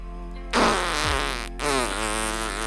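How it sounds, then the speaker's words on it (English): A loud, long fart, comedic in tone, erupts suddenly and sustains with a raspy, fluttering buzz, then a second burst follows after a brief pause, with no talking over it. "Doo-doo fart."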